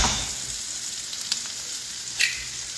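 Eggs frying with melting white cheese in a hot pan, giving a steady close sizzle throughout with a couple of brief louder crackles.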